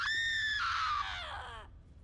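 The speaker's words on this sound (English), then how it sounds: "Would you mind screaming into this cursed recorder?" A single drawn-out scream into a recorder in the video game Borderlands 3, loud and high, falling slightly in pitch and cutting off after about a second and a half.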